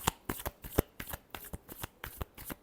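Tarot cards being shuffled by hand, a quiet close run of crisp riffling bursts in a fairly regular rhythm, about a dozen snaps.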